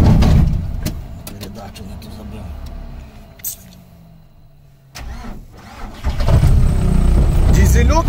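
A diesel Volkswagen Passat B5 engine runs during off-road driving, a steady mid-pitched rumble that dips and then swells louder, with voices talking over it.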